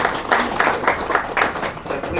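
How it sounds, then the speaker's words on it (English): Audience applause for the Premier at a KwaZulu-Natal forensic lab reopening event, a steady patter of clapping from a seated crowd that swells and dips in waves, with faint talk underneath. "Let's give the Premier another round of applause."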